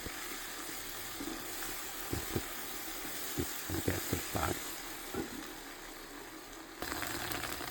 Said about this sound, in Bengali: আমি অত্যন্ত ভালোভাবে আদা রসুনটা